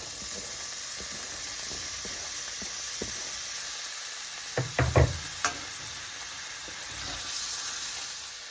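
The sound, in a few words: chopped onion sizzling in roasted garlic oil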